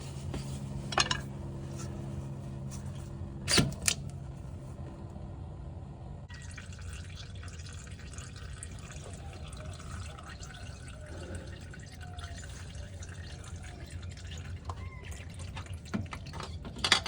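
Drive unit fluid dripping and trickling from the front drive unit of a 2021 Tesla Model Y Long Range during a fluid change, with irregular close drips and splashes into a container, a few louder clanks, and no talking.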